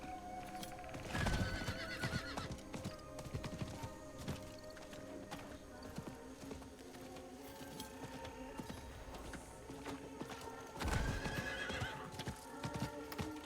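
A horse gallops in the video game Diablo 4, faint rhythmic hoofbeats with a couple of whinnies, quiet under game ambience.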